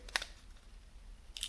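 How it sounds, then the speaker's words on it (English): Two quick, crisp snips of scissors cutting tape on a bead container, one near the start and one near the end, faint and close with quiet room noise between. "Let's try our scissors again and see if we can"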